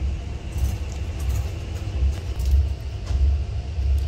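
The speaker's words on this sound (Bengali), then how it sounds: "এর সাথে এখন ক্রসিং হচ্ছে কাঠগোদাম দিল্লি ট্রেনের" A passing Kathgodam–Delhi train on the adjacent track, heard from inside a first-class AC coach of the Kashi Vishwanath Express as a steady low rumble with faint rattles over about four seconds.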